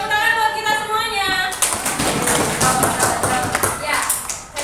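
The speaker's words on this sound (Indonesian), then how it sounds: "Oke, tepuk tangan buat kita semuanya." A classroom of students breaks into a burst of clapping after the teacher's call, dense and fairly close, with voices mixed in.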